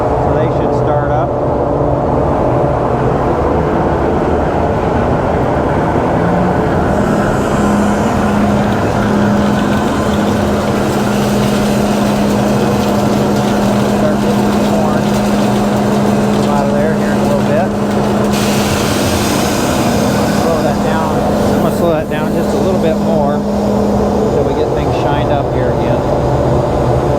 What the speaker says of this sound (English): I got the blower and the airlock in automatic, so they should start up.